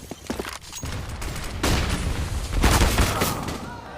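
Grenade blasts and rifle fire in a Counter-Strike match during a DreamHack Open Rotterdam 2019 semi-final, heard as dense overlapping gunfire with two heavy booming bursts, loud and close.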